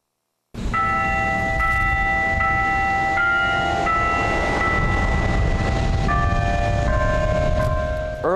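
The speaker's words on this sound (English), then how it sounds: "Earlier today, Denny Chimes played in memory of Dr. Sorensen" Denny Chimes, the carillon tower at the University of Alabama, rings a slow memorial melody of sustained, overlapping bell tones, loud and steady for several seconds.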